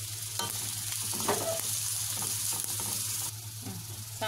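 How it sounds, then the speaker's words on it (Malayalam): Onions and green chillies sautéing in coconut oil for a brinjal curry, a steady close sizzle with occasional scraping stirs and a low hum underneath, with no talking. "ഈ സവാളയും പച്ചമുളകും എല്ലാം കൂടെ അതിലേക്ക് ഇട്ട് വഴറ്റണം"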